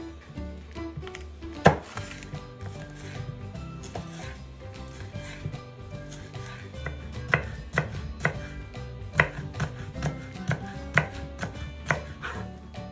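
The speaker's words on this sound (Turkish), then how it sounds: "Ve şimdi son olarak biberimi de ufak ufak parçalar halinde doğruyorum." A knife chopping bell pepper into small pieces on a board, with rapid, irregular taps of varied loudness that pick up into a steadier rhythm in the second half.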